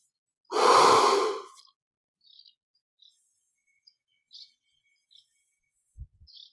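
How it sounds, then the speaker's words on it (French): A single deep inhaling breath taken during a guided meditation breathing exercise, close and clear, followed by quiet with faint birds chirping in the background and a soft thump at the end. "Encore une fois, quand on inspire,"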